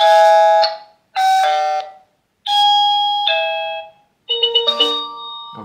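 A TP-Link Tapo smart hub cycles through its selectable alert sounds: loud, clear electronic chimes in four separate bursts with short silences between them, the last a quick repeated ding pattern.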